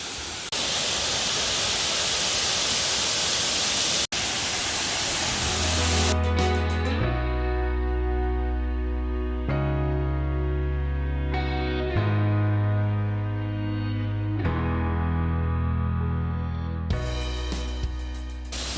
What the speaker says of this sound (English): Fall asleep to the sound of rushing water.